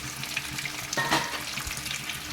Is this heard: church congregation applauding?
no